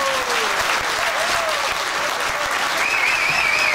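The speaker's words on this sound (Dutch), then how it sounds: "Graag een applaus." Dense, even applause from an audience at a municipal New Year's reception in Mook en Middelaar, a steady wash of many hands clapping at close range with faint voices underneath.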